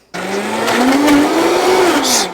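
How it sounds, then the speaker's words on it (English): A blender whirs loudly and close while blending pineapple rings and strawberries, its motor pitch rising and falling slightly as it chops through the fruit. "we're gonna throw the rest of these in the blender"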